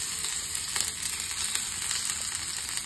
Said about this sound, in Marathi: तर आता एक एक फोडी मी तेलामध्ये टाकून देणार आहे